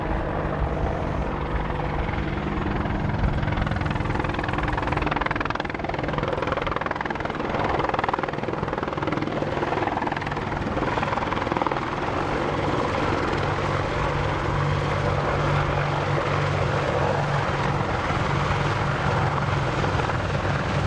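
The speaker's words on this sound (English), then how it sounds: "the British Army Apache attack helicopter" A British Army Apache attack helicopter flies nearby during an air show display, with a loud, continuous rotor thrum and engine whine that holds steady throughout, with no talking.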